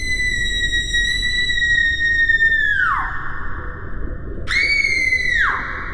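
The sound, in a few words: distant person yelling sporadically beneath the floor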